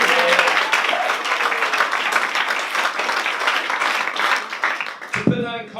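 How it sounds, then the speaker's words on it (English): Audience applause at the Ignite Manchester startup showcase, a dense patter of clapping that holds for several seconds before breaking off abruptly, with a voice entering as it stops. "So I think that deserves a round of applause."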